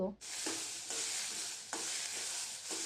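Green peas roasting in hot oil give a steady, close sizzle throughout, broken every second or so by the scrape of stirring, with no talking.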